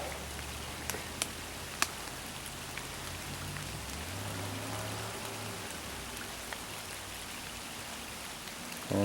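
Steady rain pours down outdoors, a dense continuous hiss of drops hitting wet surfaces, with a few sharper nearby drips and patters standing out; no voices.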